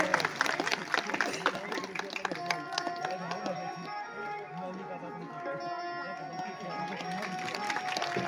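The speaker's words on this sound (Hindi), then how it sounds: "जोरदार तालियों से स्वागत कीजिए।" An audience at a Devi Bhagwat Katha religious gathering in India gives steady, dense applause, a continuous faint patter of many hands that lasts several seconds. Sustained musical tones and voices are heard underneath.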